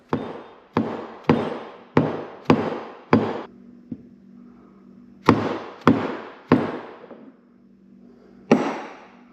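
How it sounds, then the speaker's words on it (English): Dead blow hammer tapping a seal into a trailer hub through a large 1 3/4 socket: a series of sharp, close knocks, six in quick rhythm, a short pause, then four more and a final blow, with no talk. "I just used a big 1 3/4 socket and my dead blow hammer and tapped that right in."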